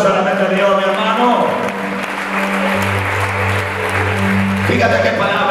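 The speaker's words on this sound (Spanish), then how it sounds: "Denle un fuerte aplauso a la mente de Dios" Church congregation applauding during a Sunday sermon, a steady wash of clapping from a crowd that runs throughout, with voices and a sustained low tone, likely music, layered underneath.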